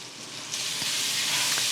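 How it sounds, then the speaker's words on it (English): Minced garlic sizzling in pooled melted butter in a pan, a steady close frying hiss that swells slightly, with a couple of faint clicks. "just add your garlic to like whatever area where the butter is pooling"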